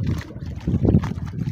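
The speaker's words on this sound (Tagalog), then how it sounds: "sampal ng alon ng dagat sa semento dito sa may gilid." Sea waves slap against a concrete seawall along a breezy shoreline in Tagdalungon, Rio Tuba, Bataraza, Palawan, with irregular low splashes and sloshing close by under steady wind noise.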